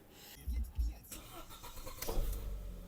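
A 2007 Audi A4 B7 1.6 MPI engine cranks and catches, turning over with low rumbling bursts before settling into a steady idle, with brief background talk.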